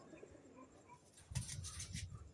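Low, throaty pigeon coos rise up close after a quiet, faintly murmuring start, repeating softly for about a second.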